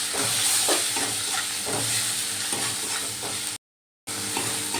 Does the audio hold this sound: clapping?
no